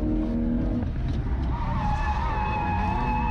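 A drift car on its first laps with newly fitted suspension: a loud, steady engine drone with tires squealing and skidding continuously, the pitch sliding up as the car accelerates, heard close up with no talk.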